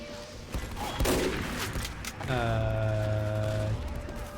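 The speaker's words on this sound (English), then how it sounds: "There appears to be a sniper that is randomly shooting at the ceiling." Sniper rifle shots in Team Fortress 2 ring out as sharp cracks amid busy in-game noise, followed by a sustained tonal electronic hum.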